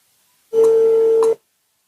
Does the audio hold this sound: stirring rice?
no